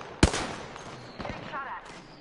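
A single sharp in-game gunshot hits loudly near the start, then fades into a busy game soundscape with faint later shots and a voice talking over it.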